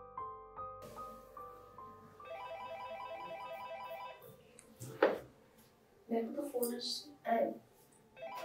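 A telephone rings indoors with a repeating electronic ringtone of stepped tonal beeps for several seconds. Then someone speaks nearby, with a thud and some movement noises.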